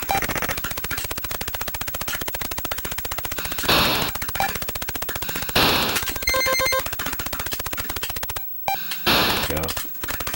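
Shooting in the Commodore 64 game Jumpman, rapid chiptune-style firing pulses repeating in a fast steady stream, with brief louder noisy bursts and a few short pauses.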